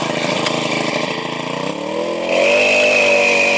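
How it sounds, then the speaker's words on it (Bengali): A 4-stroke roller-system agricultural spray machine engine runs steadily and loud, with a rising whine as it picks up speed partway through, heard alone without talk. "এই হচ্ছে আমাদের রোলার সিস্টেম স্প্রে মেশিন"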